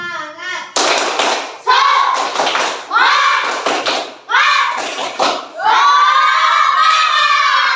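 Schoolchildren perform a 'tepuk semangat' clapping chant, loud rhythmic bursts of shouted chanting in unison mixed with claps, close and lively.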